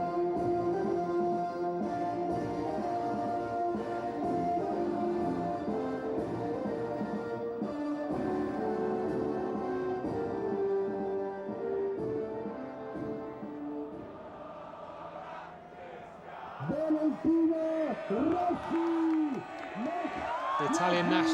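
A huge crowd at the 2005 Italian MotoGP Grand Prix track sings the Italian national anthem along with the playback, a broad, sustained chorus that carries on unaccompanied after the music ends, with cheers rising near the close.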